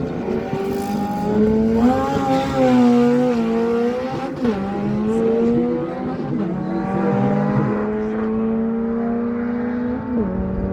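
A 1997 Acura Integra and a Honda Civic drag racing at a dragway, loud engines revving hard and climbing through gears side by side, sustained howling roar with shifts throughout.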